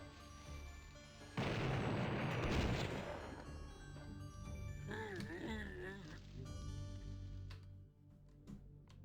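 A loud explosion in the video game Blood as a fat zombie is blown up, a sudden broadband blast decaying over a second or two, followed by game effects and a voice talking over it.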